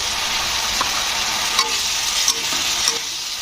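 A tomato and spice masala with salt being stirred in a pan gives a loud, continuous hiss of frying, with a few soft scraping knocks from the spoon and no voices.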